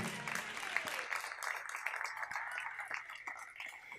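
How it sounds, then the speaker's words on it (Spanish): A church congregation applauds during a sermon, a loud, steady wash of clapping lasting a few seconds. A few voices call out through it. "Denle un fuerte aplauso a Cristo Jesús, aleluya."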